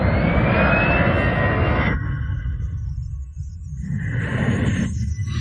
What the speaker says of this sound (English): An airplane releases fire retardant onto a wildfire